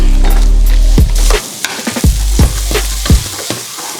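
Food sizzling and frying in a hot pan, a loud, close, continuous crackling hiss broken by several knocks and scrapes of stirring.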